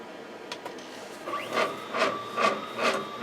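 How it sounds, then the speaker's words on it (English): Embroidery-style sewing machine stitching a sunflower tote bag, a steady rhythmic series of mechanical whirring pulses with a faint hum, close and alone without talk. "I'm going to go ahead and start stitching"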